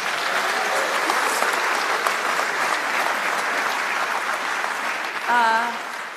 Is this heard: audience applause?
yes